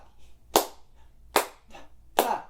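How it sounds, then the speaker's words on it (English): Three sharp hand claps ring out, close and crisp, spaced at uneven intervals as part of a polyrhythm, with faint sounds between them. "we're going to clap on each parentheses"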